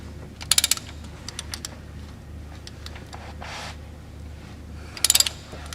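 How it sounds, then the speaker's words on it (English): Ratchet clicks come in two quick bursts while a car's crankshaft is turned by hand for a timing belt check, with a few lighter clicks and soft mechanical rustling between them. "after turning this crankshaft for 2 full rotations"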